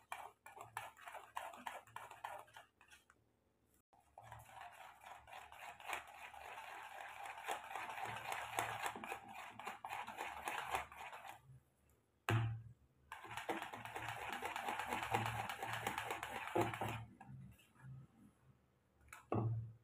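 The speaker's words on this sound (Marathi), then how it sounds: "जवळजवळ 5 मिनिटे आपल्याला पीठ असं छानपैकी फेटून घ्यायचं आहे" Dhokla batter whisked vigorously by hand in a bowl, a fast steady rattling and tapping that runs in long stretches, broken by a few short pauses, fairly quiet and close.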